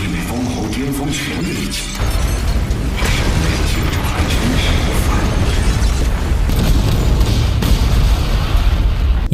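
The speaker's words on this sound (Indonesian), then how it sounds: "meledakkan penjara heksagon yang seketika memberikan ledakan dahsyat sampai radius 100 juta kilometer" A massive animated explosion as a hexagon prison is blown apart, a loud, dense roaring blast with rumbling low end and crashing debris that swells after a brief quieter lead-in and sustains to the end.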